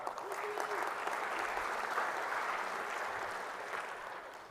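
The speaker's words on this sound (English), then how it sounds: "Give yourself a round of applause." Keynote audience applauds at a cloud technology conference, sustained clapping from a large hall crowd that swells slightly and then tapers off gradually, fairly distant and soft.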